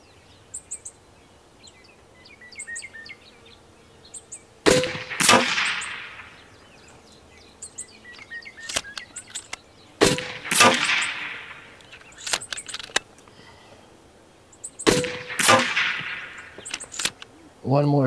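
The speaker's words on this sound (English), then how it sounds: "One more shot." Three sharp, loud cracks from an Evanix Tactical Sniper air rifle ring out at intervals of about five seconds, each followed by a metallic ring, with faint clicks and small sounds between the shots.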